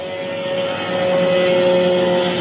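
Over Dubai, an Iranian 136 drone passes with a buzzing propeller drone that swells from moderate to louder as it draws nearer, with a steady engine tone running underneath.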